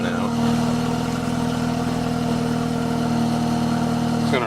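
A BMW F3X engine runs through an AWE Touring Edition quad-outlet exhaust with a steady, near, droning idle-like tone that holds through the moment and rises slightly at the end, with talking over it.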